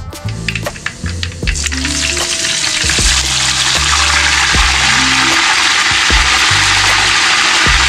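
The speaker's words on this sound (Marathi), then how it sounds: "आता मी फोडणी देते कढीपत्ता आणि लसूणची." Curry leaves and garlic hit hot tempering oil for a Konkan jackfruit bhaji cooked over a wood-fired chulha, bursting into a loud, steady sizzle with low clanks and stirring knocks underneath.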